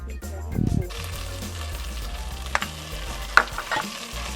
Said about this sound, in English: We put the oil in here first to stir fry the green curry paste.